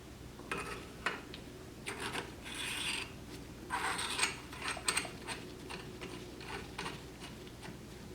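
A retaining nut is tightened down onto a sleeve on a copper compression fitting, giving soft scraping, rasping turns and small clicks from the wrench, close and fairly quiet, with no talk.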